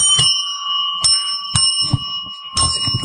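Two bells ring in repeated sharp, bright strikes, each leaving a sustained metallic tone, with low voices murmuring faintly in the background.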